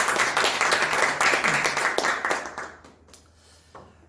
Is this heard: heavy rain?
no